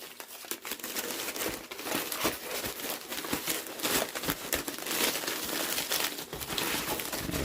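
A tube being crammed into a USPS flat rate envelope produces continuous loud crinkling and rustling of packaging, with irregular crackles and crumpling bursts, no talking.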